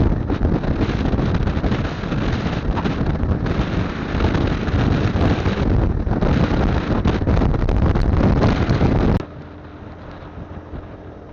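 Strong, cold wind buffeting the microphone in a loud, steady roar high on a mountain road in Casiguran, Aurora, during a Honda Beat motorcycle ride, cutting off abruptly near the end, leaving a quiet hum.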